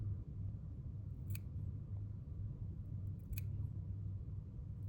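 Two crisp snips of scissors trimming fly-tying material for a redfish fly, each short and close, spaced about two seconds apart against a quiet low hum.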